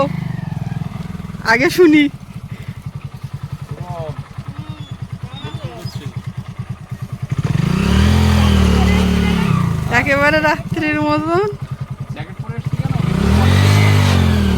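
A motorcycle rolls up and parks outside a house in the Sundarbans, its engine puttering and revving in bursts, loud and close. Several people talk over it throughout.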